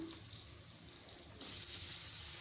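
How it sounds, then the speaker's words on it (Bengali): Potato pieces dusted with turmeric frying in hot oil in a pan, a steady close sizzling hiss that turns noticeably louder and brighter partway through. "আলুটাকে 5 মিনিট ঢাকা দিয়ে ভেজে নিতে হবে"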